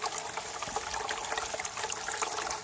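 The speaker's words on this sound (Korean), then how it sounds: "물 잘 나온다" Water from a submersible pump in a groundwater well splashing and trickling steadily at close range, moderately quiet, with no voices.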